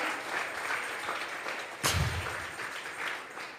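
A congregation clapping during a Sunday church service, a sustained even wash of applause from many people, moderately quiet, with one brief thump midway and no speech over it.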